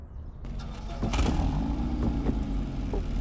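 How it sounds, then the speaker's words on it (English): In the Car Dealer Simulator 2 video game, a car engine with an exhaust hole starts up and revs with a rough, throaty grunt, loud and alone, following a short silence. "Listen to that grunt. That's probably just an exhaust hole"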